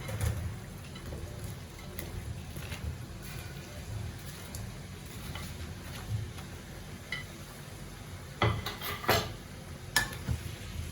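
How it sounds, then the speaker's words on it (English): Pork pieces are stirred in a pan of reduced honey glaze for sticky honey pork, giving a soft, steady low scraping and gentle sizzle with a few louder clanks of the utensil against the pan toward the end. "Just stir it, just make sure everything is coated."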